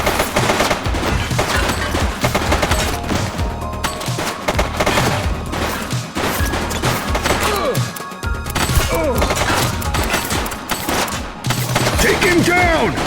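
Dense, continuous gunfire from a police shootout in the video game The Precinct, rapid volleys and bursts layered with crashes and thuds, loud throughout the whole stretch, with shouted voices mixed in.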